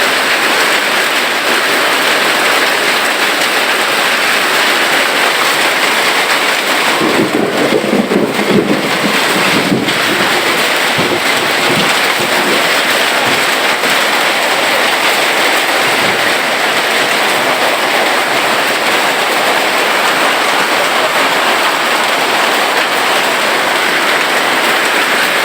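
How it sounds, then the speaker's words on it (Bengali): Heavy hailstorm with ice pieces pelting down, a dense, loud, unbroken hiss and clatter that fills the whole stretch, with only a brief faint murmur partway through. "সেই পরিমাণে শিলাবৃষ্টি হচ্ছে"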